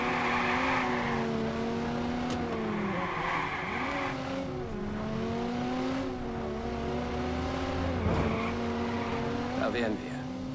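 A car driving through the city streets in the video game Watch_Dogs: a steady engine drone shifts pitch as it accelerates and eases off, with brief tyre squeals, while someone talks over it throughout.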